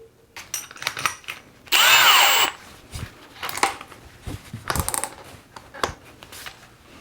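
A Milwaukee 2804-20 1/2-inch hammer drill/driver boring with a 7/8-inch spade bit revs in one loud, steady burst of about a second, surrounded by scattered knocks, clicks and handling noises.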